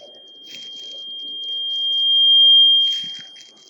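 A water resonance tube experiment gives out a loud steady resonant tone that swells to a peak and then fades as the water column shifts, with faint soft knocks and rustles underneath.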